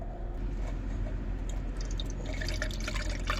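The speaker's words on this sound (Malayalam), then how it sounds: "നമ്മൾ പെയിൻറ്റ് ഇതിലോട്ടാണ് ഒഴിക്കാൻ പോകണം കേട്ടോ" Paint poured through a filter into a cut-open beer can: a steady close liquid trickle with scattered small drips and splashes growing busier toward the end, no talking.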